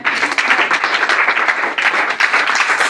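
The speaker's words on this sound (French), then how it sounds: "Gloire à Dieu, acclamons Jésus." A church congregation claps and applauds in praise at a French-language service, a dense, continuous wash of many hands clapping throughout, loud and close with no talk over it.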